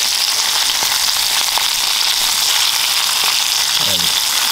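Jerk-seasoned shrimp sizzle in a hot pan on a Camp Chef outdoor cooker, a loud, steady frying hiss close up that carries unbroken throughout, with faint clicks and a brief scrape of a utensil near the end.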